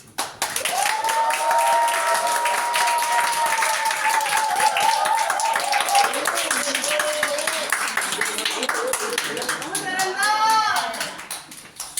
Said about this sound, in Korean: 자, 뜨거운 박수로